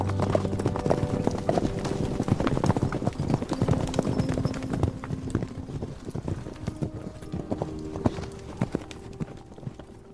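A pair of horses galloping down a mountain road, their hoofbeats a dense, rapid clatter of clip-clops, loud and close at first and thinning slightly toward the end, with no voices over them.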